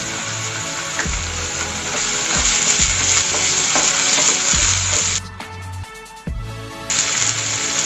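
Ginger garlic paste sizzles loudly with browned onions in a pan for a taro dish, a steady bright hiss broken by thudding stirs, briefly dropping for about a second before the sizzle returns.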